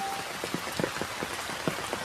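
Steady rain pours down, a dense hiss with soft irregular drips and patters landing on a surface nearby.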